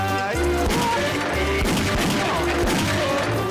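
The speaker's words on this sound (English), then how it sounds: "Now pair it with gunshots and chicken squeals." Rapid bursts of gunfire from the Wii shooting game Chicken Shoot crackle loudly over cheerful game music, the shots coming in dense, repeated volleys.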